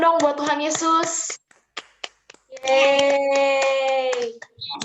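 A short burst of hands clapping in an online children's worship service, set among bright, excited children's and adult voices and cheering, followed by a pause and scattered taps.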